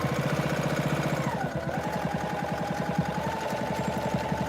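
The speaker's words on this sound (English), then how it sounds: "Back stitching at the beginning." Domestic sewing machine back stitching the start of a tote bag seam, a fast steady needle clatter with a motor whine that shifts pitch partway as the stitch direction reverses, continuous and close.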